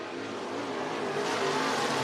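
Race cars roar around the Cottage Grove Speedway dirt oval in Oregon, a steady distant engine wash that swells slightly as the cars run, with no other clear sounds.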